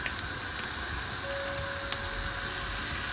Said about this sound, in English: I'm going to add this soy sauce